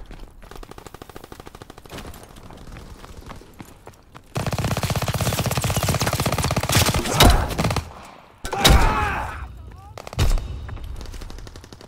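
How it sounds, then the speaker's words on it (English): Aircraft strafing run in the World War II shooter Call of Duty WWII: a dense, sustained roar of rapid gunfire that swells and breaks into several heavy bursts, with voices faintly heard beforehand. "Strafing the target."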